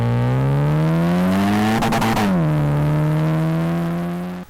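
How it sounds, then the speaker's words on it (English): A 2019 Infiniti Q50 fitted with a Rev 9 axleback exhaust does a burnout: a loud, close, steady engine roar that rises slightly in pitch, then dips, with a brief burst of tire squeal in the middle. "the Q50 gets a Rev 9 Axleback exhaust and also does its first burnout"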